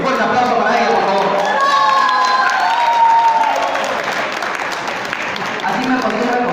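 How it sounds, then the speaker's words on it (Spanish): A conference audience applauds a gynecologist after her introduction, with a broad continuous patter of clapping and scattered voices and cheers audible over it throughout. "Un fuerte aplauso para ella, por favor"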